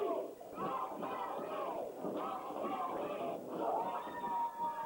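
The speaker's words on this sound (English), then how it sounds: "Crowd starting to get behind Lee Storm." A crowd at an American pro wrestling show in Chesnee, South Carolina cheers and shouts in a continuous, swelling roar of many voices, moderately distant and sustained throughout.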